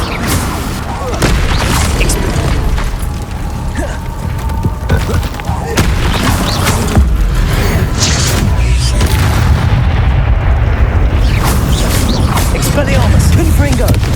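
Confringo blasting-spell explosions in Hogwarts Legacy, a run of loud, booming impacts and crackling bursts repeating over about fourteen seconds, with a voice occasionally heard among the blasts.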